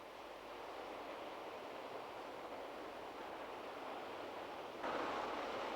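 Ocean surf breaking at the mouth of the Margaret River in Western Australia: a steady, broad roaring wash of waves that holds constant and then swells louder near the end.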